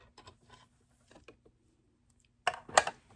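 A presser foot being removed from a sewing machine: scattered faint clicks and small mechanical taps, ending with two louder close metallic snaps.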